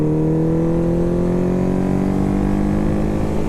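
Steady, loud engine drone of a 1970 Honda CB750 K0 motorcycle held at high revs, smooth and sustained with a rising tone, close up and alone.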